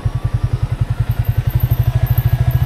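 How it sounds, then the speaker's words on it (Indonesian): A motorcycle engine idles close by in a motorcycle parking lot in Bandung, a loud, steady, rapid chugging pulse that holds an even rhythm throughout. "Oh ini parkiran motor."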